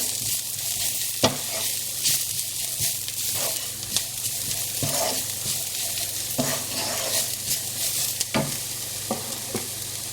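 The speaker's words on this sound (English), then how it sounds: "Give that a little stir." Chili, turmeric and coriander powder sizzle steadily in a hot pan for a Bangladeshi sardine bhorta, with close, repeated scraping stir strokes over the constant frying hiss.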